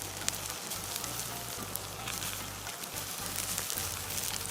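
Ostrich meat grilling over a charcoal fire, a dense continuous sizzle and crackle close by with a low steady hum beneath, no voices.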